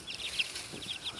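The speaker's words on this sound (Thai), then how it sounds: "ผมจะเอาไก่มาเลี้ยง" A few soft, quick clucks from a free-range native Thai chicken, faint and brief against a quiet background hiss.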